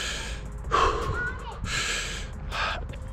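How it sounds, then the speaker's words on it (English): A person shows running breathing with forceful, close-miked breaths, sharp bursts of inhaling and exhaling in an uneven rhythm, with no words. "simply to just like practice your running breathing."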